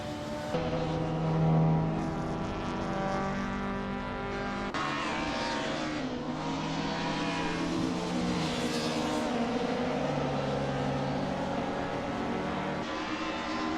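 Race car engines from an AI racing video game drone in layered, sustained tones, with two cars running close together. The engine pitch shifts steadily as they rev and hold speed. No voices are heard.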